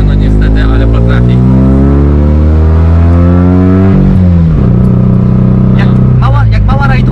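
A 1969 Fiat 500L Lusso with a small 50-horsepower engine revs and accelerates loudly up through the gears, its buzzing engine note climbing and dropping as it shifts, with people talking inside the car over the noise.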